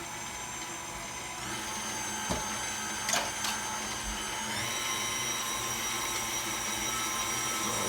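An electric mixer blends flour into a cranberry orange bread batter, running as a steady, close motor whine throughout with a brief rise in pitch partway through and a few small knocks against the bowl.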